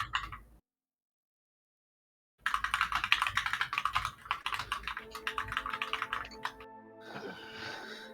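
Rapid clacking of a computer keyboard, close and crisp, stopping for a couple of seconds of silence before the keystrokes resume in quick, uneven bursts.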